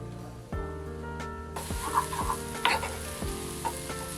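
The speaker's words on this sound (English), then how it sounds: "Just stir about for a few minutes to get that nice little consistency." Scrambled eggs stirred in a hot pan for a Mexican breakfast, with a steady sizzle and scattered scraping clinks over a low background hum, the frying growing louder partway through.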